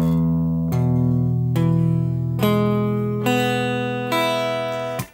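Guitar strings plucked one at a time, each note ringing out and sustaining before the next, about five in steady succession.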